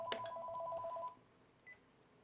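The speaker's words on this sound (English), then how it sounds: "And here goes the phone." A landline telephone gives a steady electronic warbling ring that stops after about a second, followed by quiet room tone and a faint short beep; fairly soft and close.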